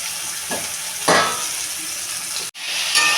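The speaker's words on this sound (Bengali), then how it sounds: "জিরেটা হয়ে গেছে এর ভেতরে আমি ঢেলে দিচ্ছি পটল কিছু করা পটল আর আলুটা ছিল এটা আমি ঢেলে দিচ্ছি" Chopped potato and pointed gourd tipped into hot oil with whole cumin, bursting into a loud sizzle and then a steady frying hiss, with a short stir and a brief clatter partway through.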